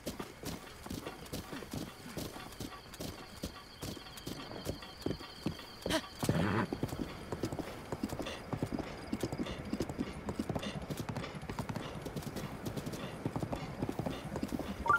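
Rapid rhythmic hoofbeats of a horse galloping in The Legend of Zelda: Breath of the Wild, a fast clip-clop that runs throughout at moderate volume, with a brief neigh-like burst partway through.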